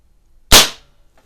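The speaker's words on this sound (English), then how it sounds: "So that is the Webley Nemesis CO2 without any kind of device on it." One sharp, loud crack from a Webley Nemesis CO2 air pistol fired with no suppressor or muzzle device, a single close shot that decays quickly into silence.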